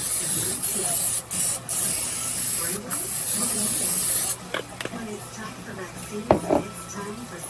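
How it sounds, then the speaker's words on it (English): Several short bursts of aerosol cooking spray hiss up close onto a 9x13 baking dish, followed by softer clinks and handling sounds. "we're going to spray our 9x13 baking dish"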